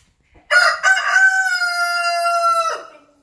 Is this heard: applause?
no